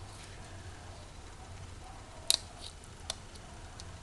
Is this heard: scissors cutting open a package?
yes